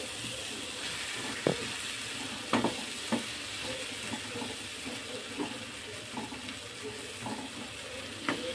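Potatoes with spices frying in a pan as they are stirred, a steady soft sizzle with occasional spatula knocks and scrapes, close and moderately loud, no speech.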